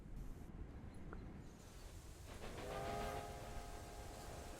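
A train in the Railway Empire 2 video game rumbles along with a steady low roar, swelling slightly midway as faint tonal horn-like sounds appear over the noise.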